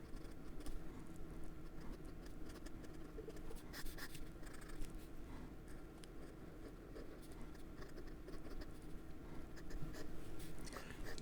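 The nib of a 1940 Sheaffer Balance fountain pen scratches across paper in quick, faint strokes, a close, quiet, papery scratching pattern without talk.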